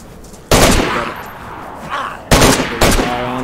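Gunfire in the survival video game DayZ, with zombies around: three loud, sharp shots ring out about two seconds apart, each followed by a ringing echo tail, with quieter game ambience between them.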